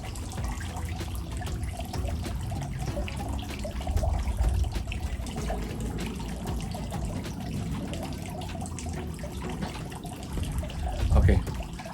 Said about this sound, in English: So I'm just gonna put a little bit of water in all of them.